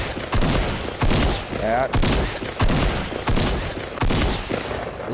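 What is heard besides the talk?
gunshots in Fortnite video game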